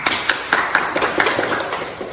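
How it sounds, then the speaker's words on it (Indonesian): A classroom audience of students claps for presenting student groups, producing scattered, uneven hand claps at a moderate level that fade in intensity toward the end. "Berikan tepuk tangan terlebih dahulu untuk kelompok 3 dan kelompok 2."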